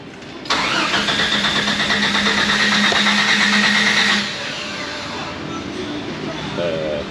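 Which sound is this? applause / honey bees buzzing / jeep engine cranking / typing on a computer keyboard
jeep engine cranking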